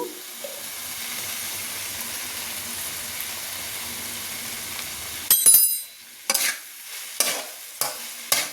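Okra fries with turmeric in a pan, a low steady sizzle at first, then a series of loud scraping stirs of a spatula in short bursts toward the end.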